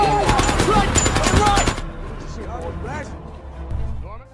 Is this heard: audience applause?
no